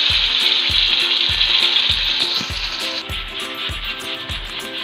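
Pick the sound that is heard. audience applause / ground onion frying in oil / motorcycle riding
ground onion frying in oil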